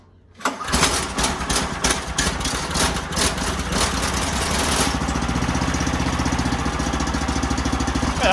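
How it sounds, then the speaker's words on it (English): A small Predator gas engine on a mower go-kart sputters to life and settles into a loud, steady, rapid putter, running close by without pause. "then we're gonna break in the engine."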